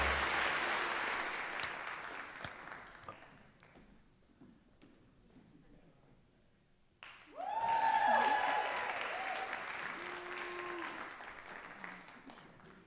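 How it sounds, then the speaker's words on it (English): An awards gala audience claps loudly at first, the sound fading to quiet. A second burst of clapping and cheering then swells back up with a few whoops on top. "Cue applause."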